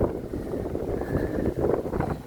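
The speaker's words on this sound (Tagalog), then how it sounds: "Sobrang hangin." Strong wind buffets the microphone at a riverwalk in Valenzuela City, a steady rough low roar with gusty surges and no clear voices throughout.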